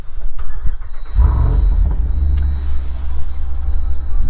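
A 2024 Jeep Wrangler's engine cranks and catches after a second, then settles into a loud, close, rumbling idle.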